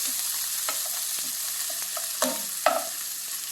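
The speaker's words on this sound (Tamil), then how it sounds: "பச்சை மிளகா போட்டு வெங்காயம் நல்லா வதங்கணும்" Onions and green chillies frying in a pan give a steady, close sizzle, broken by a few sharper knocks and scrapes of a stirring utensil, with no voices.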